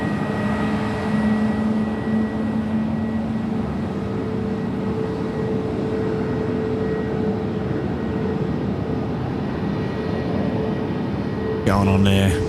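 A Jetstar airliner in old-style livery taxis past at Sydney Airport, a steady broad engine roar with a faint whine holding level throughout, rising slightly at the very end.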